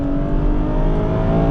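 Ferrari 812 Competizione V12 engine revving hard near the top of its rev range, a loud, steady high-pitched howl with dense harmonics throughout, close and sustained.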